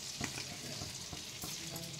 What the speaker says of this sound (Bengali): আমি এবারে বাটারের উপরে দেখো একটু জিরে ফোড়নে দিয়ে দিচ্ছি।